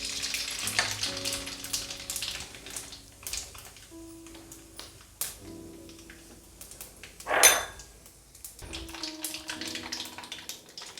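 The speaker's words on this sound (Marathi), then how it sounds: "आता आपण जिरे मोहरी टाकून घेऊयात." Cumin and mustard seeds sizzle in hot oil: uneven bursts of crackling and spitting with a sharp flare partway through, over a tonal background hum.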